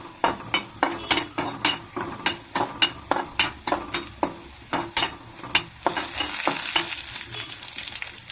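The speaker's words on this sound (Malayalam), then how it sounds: "നമ്മുടെ ഉള്ളി ഇവിടെ മൂക്കാറായി." Onions frying in a pan for a Kerala prawn theeyal, with a spoon scraping and clinking against the pan in a steady rhythm over a soft, continuous sizzle, close and clear with no talking.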